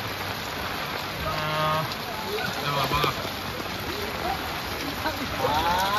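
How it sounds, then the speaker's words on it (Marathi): Heavy monsoon rain pours down on flooded streets in Nalasopara, a steady, dense hiss of rainfall close by, with faint voices and background sounds mixed in. "हे बघा केवढा पाऊस, बापरे।"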